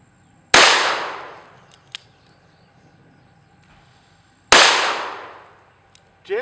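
Two loud, sharp gunshots from a Taurus Judge revolver firing PDX1 ammunition at 15 yards, spaced about four seconds apart, each with a long echoing decay outdoors.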